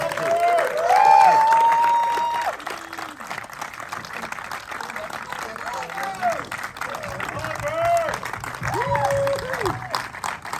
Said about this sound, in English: Please keep that applause going as we welcome back over the stage Lloyd Kaufman